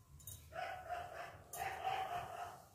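Dogs bark at night outdoors, two distant, faint bursts of yapping barks separated by a short pause, with low background noise.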